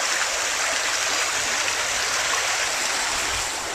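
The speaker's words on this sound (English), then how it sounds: "Listen to the sound of that water." River water flows in a continuous rushing hiss, steady and close, with no voices over it.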